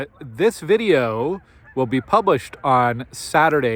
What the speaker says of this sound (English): Perhaps you can hear the noisy geese behind me.